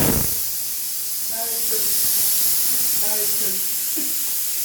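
A pressure cooker vents steam in a strong, continuous hiss that holds steady throughout, with voices talking faintly underneath.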